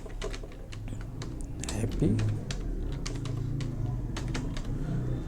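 Fingers type on a computer keyboard in quick irregular clicks, close and crisp, while someone talks over part of it.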